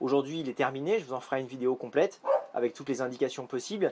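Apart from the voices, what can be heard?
dog howling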